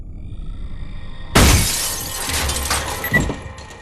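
A concrete block smashes through a home's glass door: a sudden loud crash of shattering glass followed by a couple of seconds of tinkling, scattering shards and a smaller second impact, with no voice.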